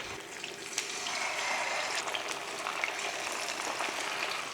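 Fish pieces frying in hot oil give off a steady, even sizzle that runs the whole time at moderate loudness, with small crackles and pops scattered through it and nobody speaking.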